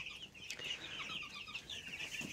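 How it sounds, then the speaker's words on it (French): Azur and crossbreed chicks cheep steadily in a poultry farm, a dense chorus of high peeping calls from many birds, moderately quiet, with no talk heard. "on a des poussins azur sur l'étage du haut et des croisés"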